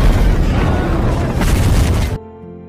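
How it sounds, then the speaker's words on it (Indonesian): Building explosion in a film scene: a loud, dense roaring blast with heavy low rumble sustains for about two seconds, then cuts off abruptly into quiet tonal music. "Tak berselang lama akhirnya tempat itu meledak"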